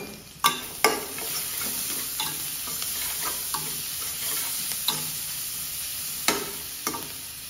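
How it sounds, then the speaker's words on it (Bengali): Onion frying in a pan while cooking greens with small shrimp, an even sizzle punctuated by several distinct spatula clicks and scrapes, close up with no talking. "পেঁয়াজটাকে একটু ভেজে নিচ্ছি"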